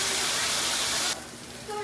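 Steam hisses hard and steady from a pressure cooker with meat inside, then cuts off abruptly, leaving a quieter background.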